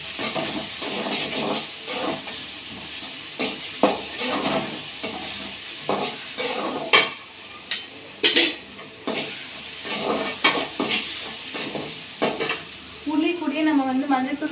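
Onions sautéing in a hot pan, a constant close sizzle broken by repeated spatula scrapes and stirring strokes, with a few sharper clatters against the pan toward the end.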